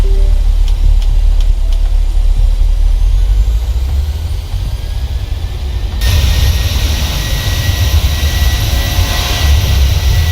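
Boeing 737-800 BBJ2 jet engines spooling up for takeoff in a flight simulator game, a loud steady roar that swells sharply partway through into a broad, hissing high-thrust blast, with no talk.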